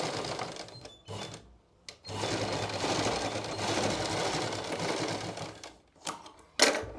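A sewing machine back-stitches a salwar waistband in several short, rattling runs, with one longer sustained burst in the middle and brief pauses between, loud and close.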